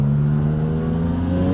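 Mazda RX-4 street car with a 20B rotary engine revving up steadily, a loud close buzzing tone climbing smoothly in pitch, no voices.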